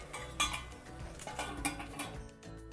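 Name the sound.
lid clinking on a curry pot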